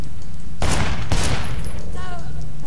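Two loud, close gun blasts in the Sleeping Dogs video game, about half a second apart, each with a short noisy tail, over steady background game sound.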